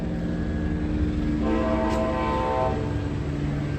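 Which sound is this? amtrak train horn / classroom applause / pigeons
amtrak train horn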